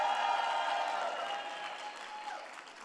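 A conference dinner audience breaks into applause that starts strong and slowly thins out over a few seconds, the clapping fairly distant and steady.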